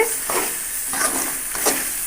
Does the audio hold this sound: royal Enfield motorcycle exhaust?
no